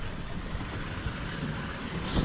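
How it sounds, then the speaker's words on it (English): Wind buffeting over open water with waves sloshing, a rough continuous roar that swells near the end. "It is getting windy and wavy."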